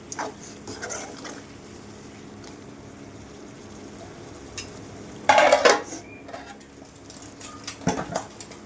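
Spicy chicken gravy being stirred in a pan, with soft scraping and a brief louder clatter of a utensil against the metal, over a low simmering background.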